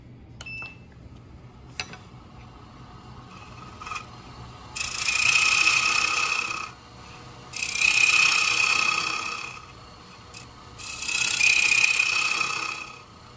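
A Record Power bowl turning tool cuts into a wooden bowl spinning on a lathe, three sustained bursts of shrill scraping, each a couple of seconds long, separated by quieter pauses with faint clicks beforehand.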